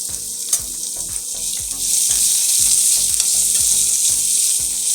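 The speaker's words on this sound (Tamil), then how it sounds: "அந்த ஆனியன் வந்து போடுறேன் இந்த ஆனியன் நல்லா வந்து கலர் சேஞ்ச் ஆகுது மாதிரி நல்லா வதக்கிக்கலாம்" Chopped onion sautéing in a pan, a loud close hiss of frying that swells and steadies partway through, with regular scraping stirs underneath.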